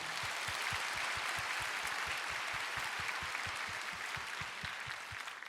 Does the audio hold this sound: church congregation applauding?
yes